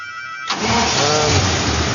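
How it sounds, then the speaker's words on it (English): A car engine in a garage, just fitted with new spark plugs, catches after a brief moment and runs loudly and roughly close by, a dense uneven drone with no talk over it. "It's misfiring now. You can hear it."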